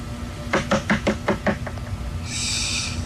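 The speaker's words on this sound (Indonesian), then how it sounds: "aku pun keluar kamar dan mengetuk pintu kamar nomor 6 itu" Knuckles knock on a hotel room door, seven firm raps in a steady, slightly slowing run, close and loud, followed by a brief hiss of background noise.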